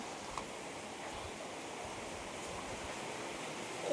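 Water rushing from a forest waterfall, a steady broadband roar heard continuously and fairly distant, with no voices.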